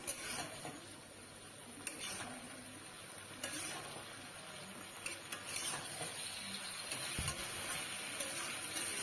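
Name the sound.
fried papaya pakora stirred in a wok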